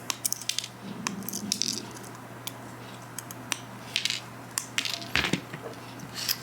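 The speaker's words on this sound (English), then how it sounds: "Then we're going to take our side cutters and snip the excess off." Side cutters snipping the excess wire ends off an Ethernet cable plug, a few sharp close clicks and snaps over quiet handling rattles and a low steady hum.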